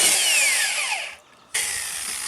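A corded power drill whirs loudly at close range, its pitch sliding down as it spins, cuts out for a moment, then starts up again steady, while work goes on building an oak deck for a gooseneck trailer.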